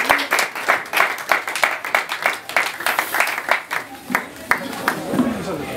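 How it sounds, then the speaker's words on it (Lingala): An audience claps for a foundation with a loud, steady patter of many hands that runs almost the whole time and thins toward the end, while voices talk over it. "Est-ce qu'on peut acclamer pour la fondation?"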